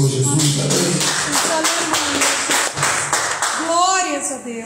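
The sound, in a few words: congregation applauding in church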